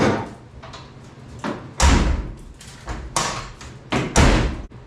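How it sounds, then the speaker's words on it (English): The door of a 1979 Ford F-150 truck, missing its door gaskets, slams shut several times with deep thumps, spaced irregularly, close by. "that door is closing pretty good"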